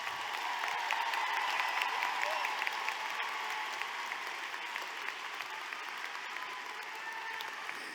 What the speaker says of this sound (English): Please give a round of applause to our distinguished honor graduates.